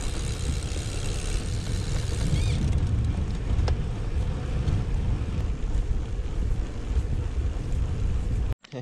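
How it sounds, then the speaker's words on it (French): Wind rushes steadily against the microphone during a long-distance outdoor run, a low continuous buffeting rumble that cuts off abruptly near the end. "j'ai un petit vent mais dans le dos"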